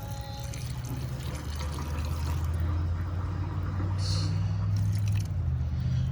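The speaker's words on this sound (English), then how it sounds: "Water this big one." Water pours steadily into a large potted plant with a low gurgling rush, close by and continuous, soaking into soil with faint splashes.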